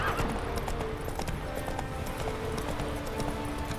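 Horses galloping in The Witcher 3, a rapid, continuous clip-clop of hooves at moderate volume, with faint background ambience throughout.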